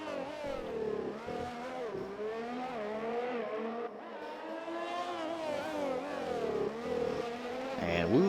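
Race car engines whine and rev in Breakout Racing League on Xbox One at the Azerbaijan Grand Prix, the pitch rising and dropping with gear shifts in a steady, loud drone.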